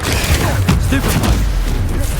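In Hogwarts Legacy, a Stupefy stunning spell goes off with a loud, booming burst amid dense combat noise, thudding impacts and brief whooshes crowding the two-second stretch; a voice is faintly audible under the clash.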